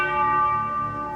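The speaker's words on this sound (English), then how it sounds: "Notice that when the church bells ring, the light comes," Church bells ring in a played cartoon scene, a sustained, resonant metallic tone with layered overtones slowly fading over about a second, loud and alone without voices.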